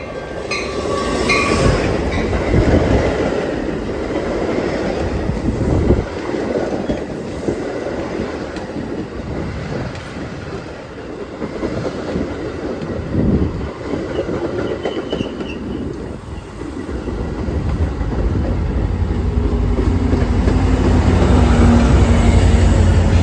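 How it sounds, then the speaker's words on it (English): Metra inbound commuter train from Elgin to Chicago Union Station, pushed by F59PHI locomotive number 92, passing close with rumbling wheels, clickety-clack over rail joints and occasional squeals, its diesel drone swelling louder toward the end. "Metro 2248, Elgin to Chicago Union Station, with Metro F59 PHI number 92 pushing"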